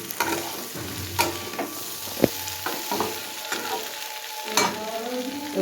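Mixed vegetables with fried flat beans stir-fried in a pan, giving a steady close sizzle broken by repeated scraping and clinking strokes of a spatula, with no talking.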